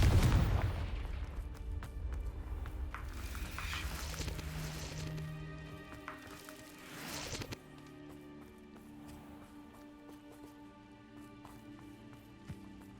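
A blasting spell from Hogwarts Legacy bursts loudly at the start, then its rumbling debris decays over several seconds, with a second thump near the middle before a quieter ringing tail.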